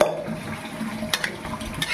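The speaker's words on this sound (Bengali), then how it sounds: "মশলা দেওয়া উষ্ণ গরম জল ঢেলে নিলাম।" Warm spiced water being poured into a pot of mutton, a brief splashing wash with faint clinks of the pot.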